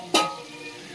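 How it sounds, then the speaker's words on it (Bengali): Fish oil frying in a pan at home, a sudden loud sizzling burst as it hits the hot pan, then a softer steady crackle fading slightly. "মুনের বাবা এদিকে মাছের তেল ভাজছে"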